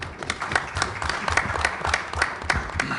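Audience applause welcoming a guest speaker onto the stage at a sports and civic engagement panel: dense, steady clapping from a sizable crowd, fairly close and sustained throughout without pause.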